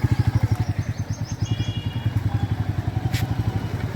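A Royal Enfield Meteor motorcycle ridden along, its engine thumping in a steady, close low pulse that stays loud throughout, with a faint higher whine briefly overhead.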